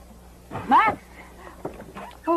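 A dog whimpers and yips in short, rising high-pitched cries, loudest in a burst near the start, then fainter whines and a closing yelp over a low background hum.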